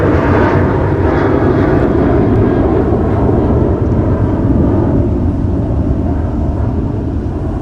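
An airplane taking off from runway 30 left at MSP airport produces a loud, sustained low roar of jet engines that holds steady throughout.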